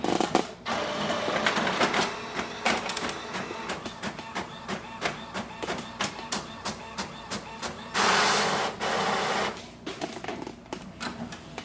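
An Epson WorkForce WF-7310 inkjet printer running a test page: rapid rhythmic clicking and mechanical clatter of the print head and paper feed, steady and close, with a brief louder whirring burst partway through and no voices.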